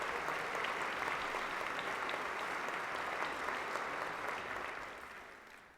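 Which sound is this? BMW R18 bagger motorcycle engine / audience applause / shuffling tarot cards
audience applause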